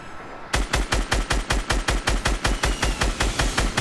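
Rapid automatic gunfire in a video game, aimed at a platform, comes as a loud, close, steady stream of about fifteen evenly spaced shots after a brief quiet lead-in.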